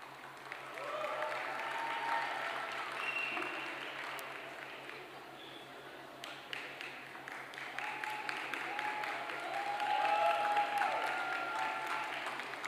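Sustained applause from a large audience fills the hall at the Miami Herald/el Nuevo Herald Silver Knight Awards ceremony, steady throughout and swelling toward the end, with a faint voice barely audible beneath.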